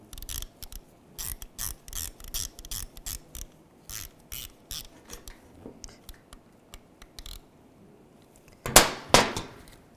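Bolts on a 2006-2011 Cadillac DTS door lock actuator being snugged down with a ratchet, a steady run of close, crisp clicking strokes followed by a louder burst of metallic rattling near the end.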